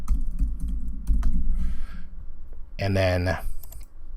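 Keys clatter in quick bursts on a computer keyboard while text is entered into a website page editor, and a voice speaks briefly near the end.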